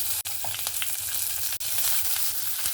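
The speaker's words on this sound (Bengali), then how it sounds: "রসুনটা দিয়ে রসুনটাকে সুন্দরভাবে ভেজে নেব" Chopped garlic and green chilies fry in hot oil as the tempering for kochu shaak with a hilsa head. A loud, continuous close sizzle with light stirring clicks plays throughout, with no voices.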